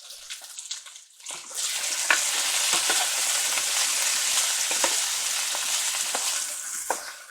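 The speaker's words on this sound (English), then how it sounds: "everybody knows what frying zucchini squash looks like" Steady crackling sizzle of zucchini frying in a little olive oil, loud and continuous after a brief quiet start, with occasional sharper pops and spatters.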